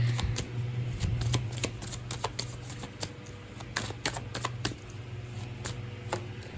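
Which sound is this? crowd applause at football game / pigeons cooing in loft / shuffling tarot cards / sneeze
shuffling tarot cards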